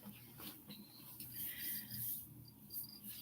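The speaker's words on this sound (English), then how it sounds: "I got to get rid of the crickets." Crickets chirp softly in short repeated high trills, steady and faint in a quiet indoor space with no talking.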